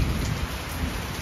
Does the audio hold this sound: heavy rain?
yes